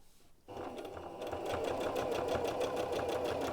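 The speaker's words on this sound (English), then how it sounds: "So I'm still using my zigzag stitch" Sewing machine running steadily while zigzag stitching a T-shirt near the band, starting after a brief quiet moment and continuing as a close, even, rapid mechanical whir with rhythmic needle ticks.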